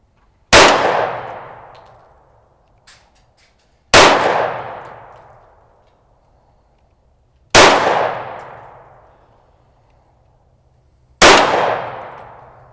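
Pistol rounds strike a steel gong target at an outdoor range, four loud ringing clangs spaced a few seconds apart, each a sharp hit followed by a long fading metallic ring, with a small faint click between the first two.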